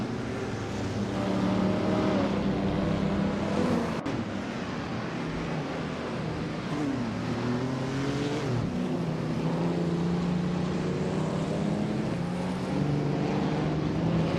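Engines of two racing cars in a video game roar side by side, a continuous loud drone with rising and falling pitch as they shift and jostle, steady throughout with no talk.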